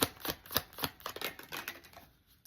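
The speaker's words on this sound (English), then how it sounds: "y'all see me shuffling these cards. You see me shuffle it." A deck of tarot cards being shuffled by hand, a rapid series of crisp riffling clicks and flicks close up, loud at first and then tapering off.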